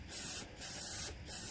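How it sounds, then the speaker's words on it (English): Cleaner sprays into skateboard bearings in three short, sharp hissing bursts separated by brief pauses, close and fairly loud. "Go ahead and take a little bit and just kind of spray it in there."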